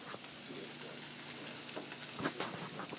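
Diced onions and red pepper sizzle in oil in a big frying pan, a steady close crackle with occasional stirring scrapes and pops, no voices.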